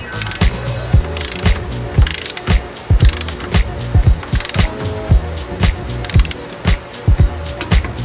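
A ratchet wrench tightens the top bolts of BMW 135i coilovers to 14 foot-pounds, giving a fast, steady, close clicking with short pauses between bursts of strokes and no voices.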